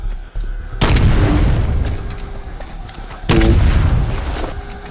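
Two loud, booming shotgun blasts go off in the zombie game Night of the Living Dead, each followed by a long, rumbling decay.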